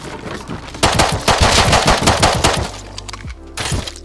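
Rapid automatic gunfire from the survival video game Rust, a loud burst of dense repeated shots lasting a couple of seconds, followed by a low hum and a few scattered later shots.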